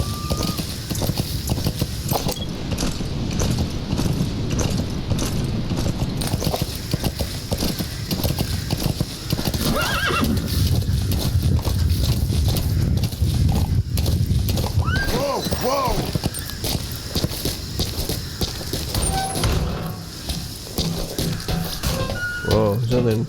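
Clip-clopping hooves and whinnying from D-Horse, the horse in the Metal Gear Solid V video game, come through as a steady rhythmic gallop over game music, with a voice talking throughout.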